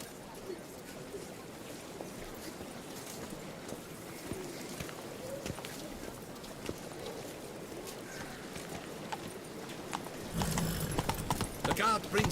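Roach the horse's hooves clip-clop at a walk on a hard surface in Witcher 3, soft and rhythmic under ambient game sound, growing louder and busier near the end.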